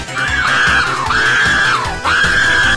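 In a Roblox Rainbow Friends game, a loud, high, drawn-out scream rises and falls three times in a row, each wail sliding up and then down in pitch.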